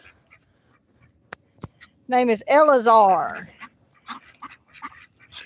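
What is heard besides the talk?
large farm duck quacking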